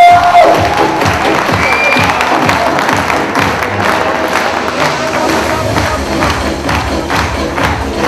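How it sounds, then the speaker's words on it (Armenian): An audience at an evening celebration in Aparan, Armenia, a loud continuous crowd of clapping and cheering with scattered shouts, sustained throughout and filling the hall. "ապա բարձր ծափահարենք։"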